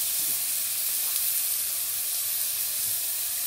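Steady, loud frying sizzle with a hissing wash of steam fills the pan as red onion and capsicum go in for chicken Manchurian, continuous and close with no voices.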